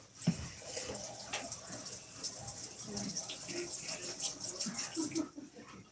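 Tap water running steadily into a water bottle, a close hissing splash that rises in pitch as it fills, with a person talking quietly over part of it.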